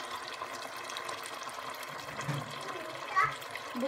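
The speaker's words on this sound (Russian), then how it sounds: "Сейчас добавляем кипяченую воду." Boiled water is poured into a pan of meat roses, giving a soft, steady trickle and splash over the hiss of cooking, while someone talks.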